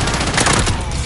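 Rapid gunfire in a battle royale shooter, a dense, loud burst of overlapping shots that fills the whole moment with no pause.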